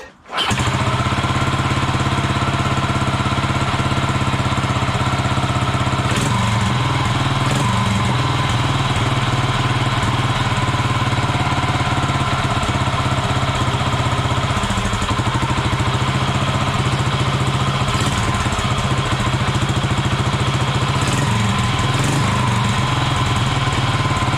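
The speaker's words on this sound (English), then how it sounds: "But anyway, I will just start the bike." A Royal Enfield motorcycle engine catches right away and settles into a steady, loud idle that runs unbroken, with slight fluctuations in its rumble.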